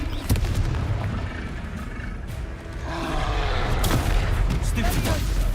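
Confringo fire spell blasts in the Hogwarts Legacy video game: several sharp explosive booms and impacts over rumbling combat noise, loud and close.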